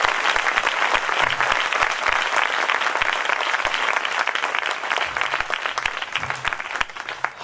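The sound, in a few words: congregation clapping to praise God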